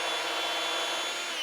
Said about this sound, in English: What I'm going to do now is pilot drill